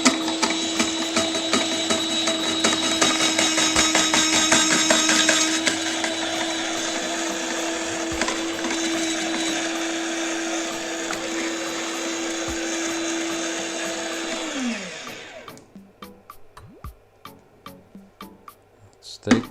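A SILVERCREST SGR 150 D1 electric grater grating onion whirs loudly and steadily for about fifteen seconds, then winds down to a stop, followed by scattered light clicks and clatter.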